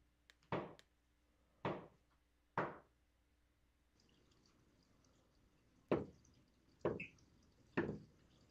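Knocks on a door in a video game, six separate solid thuds spaced irregularly, loud and close over quiet low background hum.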